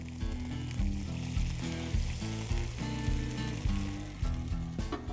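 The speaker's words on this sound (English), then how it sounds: "As soon as that starts to sizzle, we immediately go in with our chorizo and clams." Chorizo and clams with a splash of beer sizzle loudly in a hot wok, a dense continuous frying hiss with occasional stirring scrapes and clinks, close and steady throughout.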